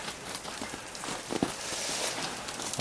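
Freezing rain during an ice storm in Chilliwack, BC, a steady, soft hiss of drops pattering on icy surfaces outdoors with a few faint ticks, continuous and fairly quiet.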